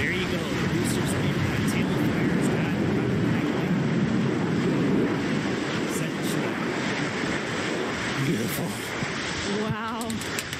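Blue Origin's New Shepard rocket booster descends with a steady, loud roaring rumble that holds throughout the landing, while excited commentators talk over the continuous engine noise.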